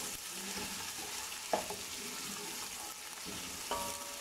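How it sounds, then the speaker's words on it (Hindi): Ginger, garlic and onion fry in a pan for mutton mince pulao, giving a steady close sizzle with two brief sharp clicks of a utensil against the pan. "2-3 मिनट भूनेंगे, 1 मिनट तक, ताकि वो जो अदरक लहसुन वो थोड़ा ब्राउन हो जाए और प्याज भी थोड़ा और ब्राउन हो जाए।"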